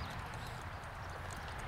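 Draft horses hitched three abreast pull a plow through a field after a rain day, their hooves thudding softly in a steady low clip-clop beneath a constant outdoor rumble.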